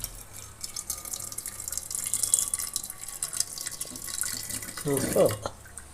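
Water poured into mashed boiled brinjal in a pot during cooking, a steady trickling and dripping stream running throughout, with a brief louder splash near the end.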